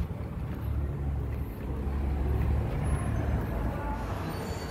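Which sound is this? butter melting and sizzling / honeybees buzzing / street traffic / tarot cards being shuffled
street traffic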